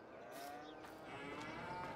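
Cows moo in a farming video game, a couple of drawn-out lowing calls over steady ambient farm noise, with no talking.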